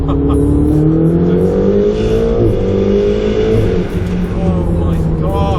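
A 2016 Ferrari 488 GTB accelerates hard, its engine note climbing steadily in pitch through a gear, loud and close, with a brief dip around a shift and a rising whine after.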